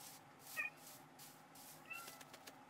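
A pet cat gives a faint, short meow or two inside a house, set against a steady background drone and some soft clicks.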